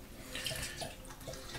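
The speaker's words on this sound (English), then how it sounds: "So we just add the rest of our apple juice." Apple juice poured into a batch of fermenting cider gives a short, continuous liquid splash and trickle, fairly faint and close, lasting under two seconds with no voices.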